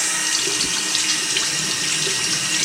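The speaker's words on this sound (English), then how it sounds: "And then put on the cold water." Cold water pouring steadily from a sink tap, a close, even rushing splash that continues without a break.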